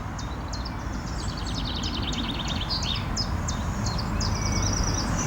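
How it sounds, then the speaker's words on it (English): An unidentified bird sings by a lake on a spring afternoon, repeated high chirping phrases carrying over steady low outdoor rumble, moderately close. "There's another bird singing there that I can't identify."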